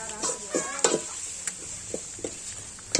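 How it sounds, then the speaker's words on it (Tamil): Vegetables sautéing in a hot pan as a spatula stirs them, with light sizzling under a series of sharp scrapes and clinks against the pan at an irregular pace. "அதனால நம்ம வதக்கி விட்டுக்கிறோம்."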